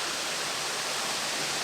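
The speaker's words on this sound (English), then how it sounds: "getting some cinematic shots of the waterfall" A waterfall at Mt Barney National Park pours as a steady, dense broadband rush, even and unbroken throughout, fairly loud and close with no talking.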